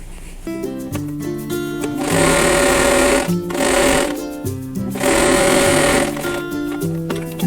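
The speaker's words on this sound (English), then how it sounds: "now I'm going to sew a 1/4 inch away on both sides of that drawn line" A sewing machine runs steadily while stitching a quarter-inch seam on quilt fabric for a folded star block, loud and close, with the motor whirring in two longer bursts between brief pauses.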